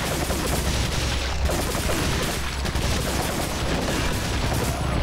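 A loud, sustained volley of gunfire fills the scene in the survival horror game Resident Evil 4, with shots blurring into a continuous rattle and no voices over it.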